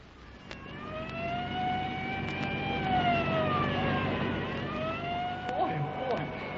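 Police car sirens wail in a radio drama, a long rising and falling tone sweeping over a car engine's drone, moderately loud and continuing for several seconds.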